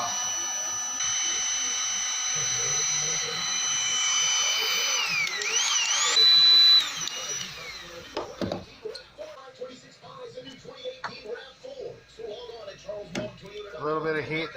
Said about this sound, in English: So I'm going to use the heat gun and the scraper knife and get them all off.